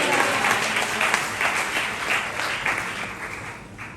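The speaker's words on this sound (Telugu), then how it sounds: "చప్పట్ల నుండి దేవుడికి మహిమ చూపించాలి" A church congregation at a Sunday service applauds to glorify God, a steady wash of clapping from many hands lasting a few seconds at moderate level.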